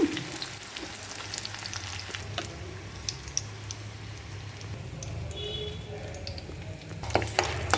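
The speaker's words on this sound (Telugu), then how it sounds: "ఇప్పుడు కరివేపాకు కూడా వేయించేసానండి కాకరకాయ ఫ్రైలోకి" Curry leaves frying with bitter gourd in a home kitchen pan, a steady low sizzle with scattered crackles and a few sharp pops, moderately close and alone without talk.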